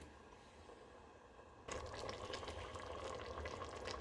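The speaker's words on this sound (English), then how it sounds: "Okay, so as you can see, it's a nice simmer now" A pot of cabbage soup simmers on the stove. A soft background hush gives way suddenly to a steady, dense bubbling and burbling that carries on close up without a break.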